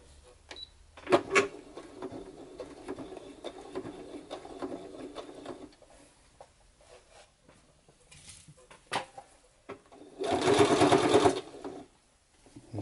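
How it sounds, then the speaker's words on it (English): A sewing machine stitches leather gauntlet gloves in several bursts of rapid mechanical chatter, with a long, loud run near the end and quieter handling noises between the bursts. "Just hold the ends, let the machine do all the work."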